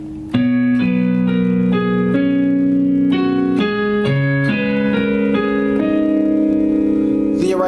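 Solo piano plays a slow passage from a song, sustained chords and bass notes changing about every half second, close and steady with no talking.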